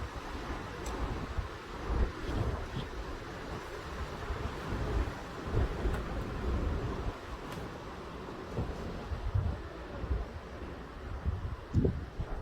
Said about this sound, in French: Wesh, la rafale!